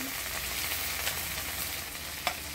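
Ground spice paste of coriander, cumin, ginger, radhuni, garlic and onion with chopped tomato frying in a pan in a village kitchen: a close, steady sizzle with faint stirring scrapes and a brief clink near the end.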